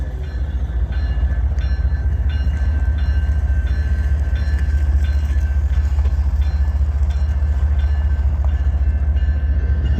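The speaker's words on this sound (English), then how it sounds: "we got this one pulling in at us" A train rolls in close by, its steady heavy rumble and wheel noise holding at full strength throughout, with faint rhythmic clicks from the rails.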